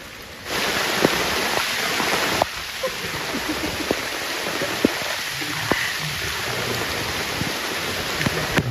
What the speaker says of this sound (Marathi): थंडी पाऊस पडत परत सुरुवात झाली आहे